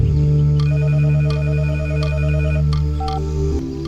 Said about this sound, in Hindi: उसी लड़की का फोन है बेटा।